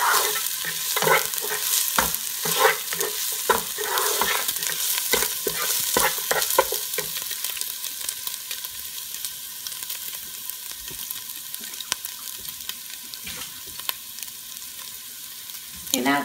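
Kofta curry masala is stirred and sautéed in a pan, close scraping strokes in a quick rhythm over a steady sizzle that settles into a quieter fry.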